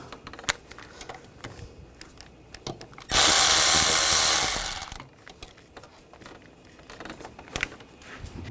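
A 6mm socket on a power driver loosens the hose clamps on the intake runner of a 2002-2006 Honda CR-V 2.4L four-cylinder. A single loud, close whirring burst lasts under two seconds, set between quiet clicks and handling noises.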